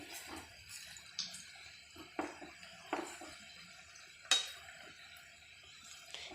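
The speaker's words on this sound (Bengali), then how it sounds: "বেশ কিছুক্ষণ টাইম নিয়ে নেড়ে চেড়ে ফিটোটা ভেজে নিতে হবে যতক্ষণ না কালারটা চেঞ্জ হয়ে যাচ্ছে" Chira puli pitha is stirred and fried in a pan over a medium-high gas flame, giving a soft, low sizzle under intermittent scrapes and light metallic knocks of a utensil against the pan.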